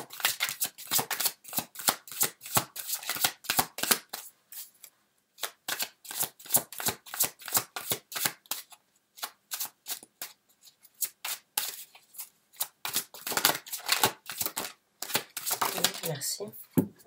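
Tarot cards shuffled by hand in repeated quick riffling bursts with brief pauses, close and crisp, running throughout without talk.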